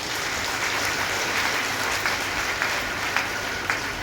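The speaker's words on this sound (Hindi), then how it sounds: "एक बार ताली तो बजा दो" An audience claps steadily and evenly for about four seconds at a gathering of the Triveni Veda Vidyapeeth in Siliguri, with a few sharper claps standing out near the end and no voices.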